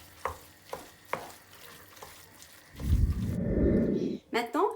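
Ground meat mixed with other ingredients is stirred in a pan, first a few scraping knocks, then a loud, close sizzle of frying for over a second, ending in a short squeaky scrape.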